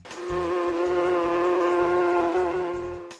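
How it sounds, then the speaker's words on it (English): A solitary blue orchard bee buzzes in one steady, continuous drone that rises and fades out, close and fairly loud, with a few faint low thumps underneath. "The blue orchard bee looks nothing like its honeybee relatives."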